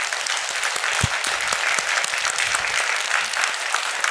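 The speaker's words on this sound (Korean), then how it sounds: "여러분 큰 격려의 박수 한번 해주세요" A church congregation at a Friday evening worship service claps in sustained, dense applause that stays loud and even for the whole stretch.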